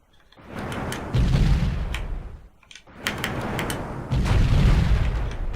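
Rockets from a Comanche helicopter in Comanche Gold slam into an ammo dump, setting off heavy booming explosions in two big bursts with rumbling tails, loud and close with no talk.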